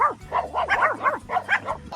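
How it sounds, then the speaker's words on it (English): A dog growls and whines at close range in a home, giving a rapid series of short, rising-and-falling vocal bursts with no pauses over two seconds. No one speaks during it. "Oh, you growling at me?"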